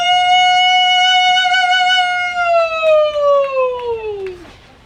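A human voice hollers one long sustained wail that imitates a siren, a distress holler from a national hollerin' champion, steady at first and then sliding downward as it fades out.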